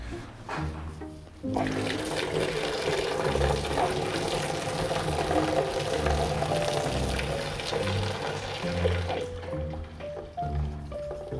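Boiled potatoes are drained of their water in a kitchen, giving a steady splashing, pouring rush for several seconds that fades near the end, with faint clatter around it.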